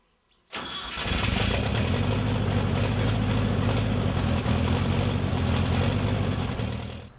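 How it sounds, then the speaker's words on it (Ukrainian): A homemade small tractor engine cranks and catches, then settles into a loud, steady, rumbling chug close by, running continuously. "Коли Олександр Романович уперше ввімкнув двигун власноруч змайстрованого тракторця"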